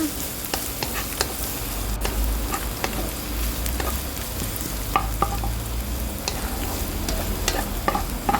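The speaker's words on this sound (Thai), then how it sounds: "ใช้โป๊สับใส่ลงไปค่ะ ผัดต่อไปให้หอมค่ะ ผัดให้เครื่องหอมนะคะ" Minced pork and aromatics are stir-fried in a pan, giving a steady loud sizzle broken by repeated scraping and clacking of a spatula against the pan, with no talk.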